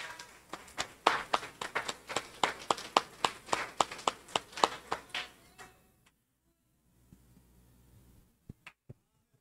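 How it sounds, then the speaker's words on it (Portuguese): A church congregation applauds together, a dense burst of many hands clapping in a rhythmic, swelling pattern for about six seconds before it stops abruptly, leaving near silence broken by a few faint taps. "Você pode aplaudir o Senhor Jesus?"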